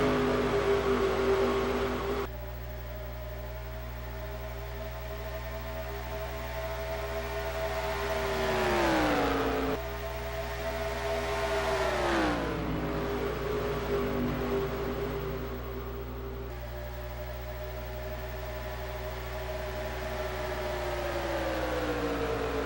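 Stock car engines roar around Atlanta in NASCAR Racing 2003, a continuous drone of several cars whose pitch rises and dips as they accelerate and lift, loud and close, with no talking.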